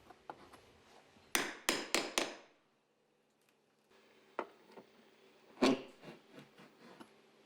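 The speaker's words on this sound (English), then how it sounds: "As the opposite end of the tool is pushed downward, the buried nail is pulled to the surface." A tiger's paw nail puller strikes and pries at nails in wood trim beside a sliding door: a burst of four sharp metallic hits, a pause, then scattered single knocks and scraping taps, close and crisp.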